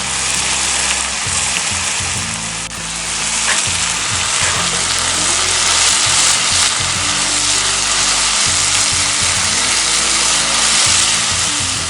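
Shrimp and tomatoes fry in butter in a cast iron pan, a steady loud sizzle lasting throughout with occasional scraping and stirring clatter as the pieces are turned.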